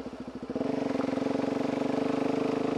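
A Suzuki DRZ400SM motorcycle engine idles and then holds a steady, loud, rapidly pulsing thump after a brief rev change at the start, close up with no voices.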